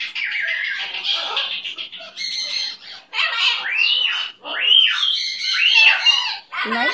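A pet bird squawks and chirps close by in a home, a run of loud, harsh calls and whistly tweets in short bursts with brief gaps, while a person murmurs softly to it.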